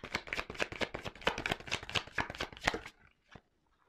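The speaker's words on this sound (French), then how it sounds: "attendez, je prends encore une carte" Tarot cards being shuffled and drawn from a deck, a rapid run of crisp papery flicks for nearly three seconds, then a lone soft snap after a short pause.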